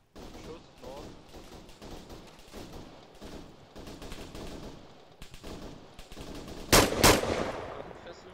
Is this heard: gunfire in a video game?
yes